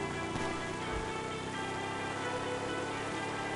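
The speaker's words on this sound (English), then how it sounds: "Imagine trying to drive a motorcycle in this rain." Steady rain pattering on a vehicle, a dense, even hiss with a droning engine underneath, moderately loud and continuous with no voices.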